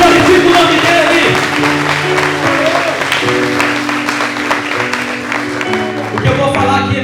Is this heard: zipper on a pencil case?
no